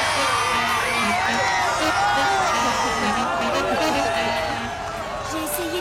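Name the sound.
crowd cheering and applauding the champions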